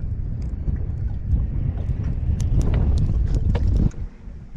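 Wind blowing steadily over open water on a fishing trip, a continuous broadband rush buffeting the microphone close up, with scattered small clicks and knocks on top and a brief drop near the end.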